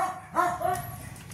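A dog gives a quick, close, high yappy bark and whine, a short burst of yips over faint background noise.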